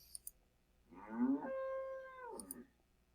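A recorded cow moo plays as an app sound, one long, drawn-out bellow lasting over a second, with a few faint clicks before and after.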